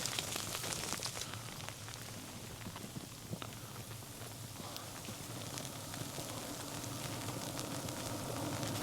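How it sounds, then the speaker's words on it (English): Rain hisses steadily outside a bubble tent during a winter storm, a constant faint wash of drops with occasional sharper patters, no voices. "Yeah, that's just like rain."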